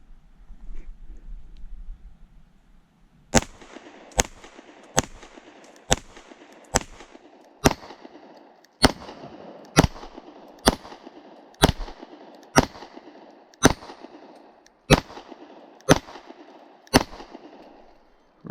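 A Kimber KDS9C pistol is fired outdoors: after a quiet start, about fifteen sharp, loud shots ring out at a steady, evenly spaced pace.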